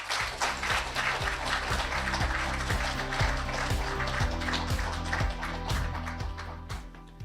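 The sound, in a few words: audience applause welcoming the minister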